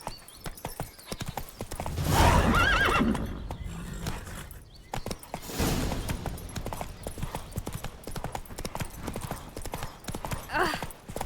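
Roach, Geralt's horse in The Witcher 3: Wild Hunt, clops along with steady, close hoofbeats, broken by a couple of loud neighs and whinnies.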